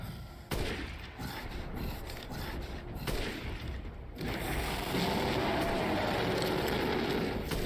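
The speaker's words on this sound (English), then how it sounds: "Keep shooting him." Gunshots in Resident Evil Village during a fight with a summoning enemy: a sharp report followed by a dense, noisy barrage of shots and rumbling action, fairly loud and constant.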